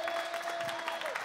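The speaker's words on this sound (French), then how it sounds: "applaudissements" A brief burst of applause from an audience at a touring live show, moderately distant and fairly soft, with a faint steady tone running underneath.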